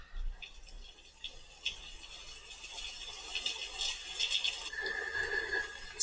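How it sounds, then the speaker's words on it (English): Water flows somewhere below in a large Grand Canyon alcove, a soft steady trickle and splash at a distance under faint ambient wind, without any talking. "There's water flowing down there."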